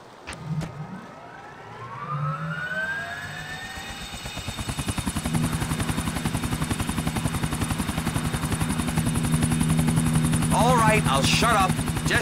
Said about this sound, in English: Here's the Ancelotti chopper.